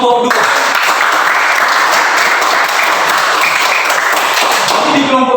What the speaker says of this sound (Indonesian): Kita juga berikan tepuk tangan untuk kelompok 2